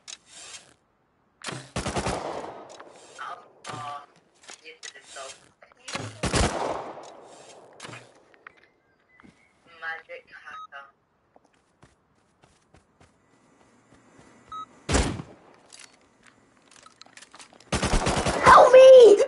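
Gunfire in the Rust survival video game, with sharp bursts of shots scattered among footsteps and quieter gaps, and a dense loud volley near the end.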